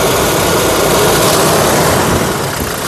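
A 2017 Toyota Innova Crysta 2.4 G diesel engine idling, a loud, steady, rough drone close up, unbroken and with no talking.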